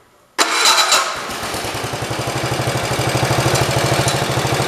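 A small 1973 engine of model 112 cranks and fires after a carburetor adjustment, catches abruptly, then settles into a steady, even, rhythmic putter of idle pulses, close and alone.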